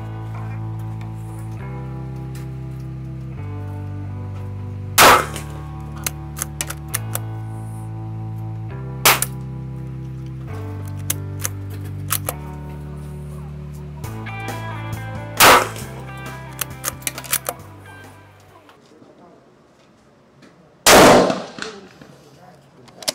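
A Mossberg MVP rifle fires at a 200-metre range, with four sharp, loud cracks spaced several seconds apart over quieter background music.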